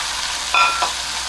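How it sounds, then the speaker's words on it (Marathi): Finely chopped fenugreek leaves are stirred into hot oil with cumin and asafoetida, giving a short, close sizzle with a quick scraping stir in the middle. "ती थोडी परतून घेऊया तेलावर"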